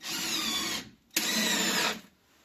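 A power screwdriver drives wood screws into boards for a cat house wall, whirring in two close bursts about a second each, separated by a short pause, heard alone.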